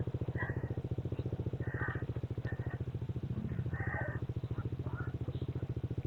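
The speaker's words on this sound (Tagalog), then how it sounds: "Ilan motor ba yan?" Motorcycles on a moto camping ride idle with a steady, rapid, low-pitched pulsing near a riverside campsite in Botolan, Zambales, the putter fairly quiet and continuous with a few brief higher sounds over it.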